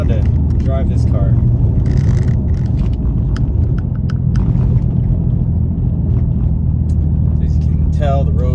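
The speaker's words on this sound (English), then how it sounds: "As you can tell, the roads are very bumpy. That's why you hear that rattling sound." Cabin of a 2017 BMW M3 ZCP with S55 engine driving over bumpy roads at night, steady loud road rumble and engine drone throughout with scattered small rattles and clicks from the interior.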